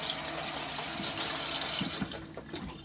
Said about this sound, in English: I add a little bit of water into that whole mix that I had here